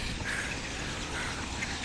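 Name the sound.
flock of birds quacking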